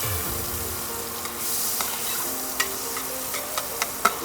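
Onion is fried and stirred in melted butter, giving a steady close sizzle with a few sharp clicks from the utensil and no talking.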